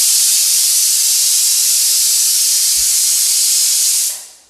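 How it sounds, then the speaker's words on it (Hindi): Pressure cooker on a gas flame hissing steam loudly and continuously while jackfruit cooks inside, the harsh jet holding steady for several seconds before cutting off. "मैंने गैस के फ्लेम को ऑन कर दिया है और इसके ऊपर मैंने कुकर को चढ़ा दिया है"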